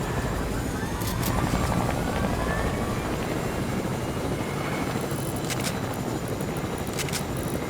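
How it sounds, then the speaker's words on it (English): Helicopter in the Fortnite video game, a steady whirring rotor drone throughout, with a few sharp clicks, no speech over it. "Mr. President, there's another helicopter trying to..."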